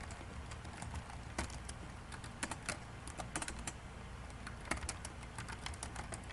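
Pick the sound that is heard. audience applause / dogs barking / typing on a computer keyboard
typing on a computer keyboard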